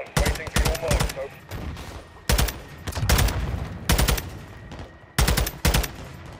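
Call of Duty Modern Warfare 2 combat during a gun run: bursts of rapid automatic fire in several clustered volleys, loud and close, with pauses between them filled by battle noise.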